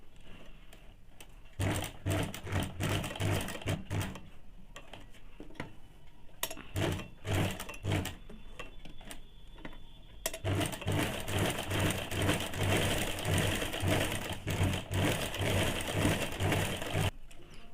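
A sewing machine stitches a curved seam on a high-neck blouse in rapid bursts of rhythmic clatter, stopping briefly several times before running on steadily and close.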